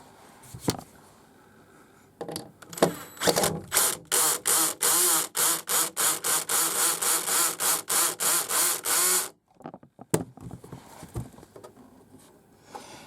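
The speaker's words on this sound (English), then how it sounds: "And that noise you heard then is just the clutch in the drill." A cordless drill driving a screw into a model railway backscene board, its clutch slipping in a rapid, loud, evenly pulsed ratcheting burst that runs for several seconds, then stops abruptly before a few softer clicks.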